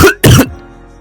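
A single harsh cough bursts right into a podcast microphone, loud and close, made of two quick throaty expulsions followed by a short fading tail of room sound.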